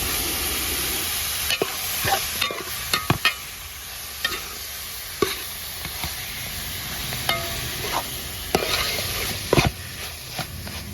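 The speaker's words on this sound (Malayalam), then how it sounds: "ചിക്കനും കൂടെ ഒന്ന് ഇട്ടുകൊടുക്കാം പിന്നെ നല്ലപോലെ ഒന്ന് വഴത്തി വെക്കാം" Chicken sautéing in a pan for chicken kurma, frequent sharp utensil knocks and scrapes from stirring over a continuous close frying sizzle, no talking.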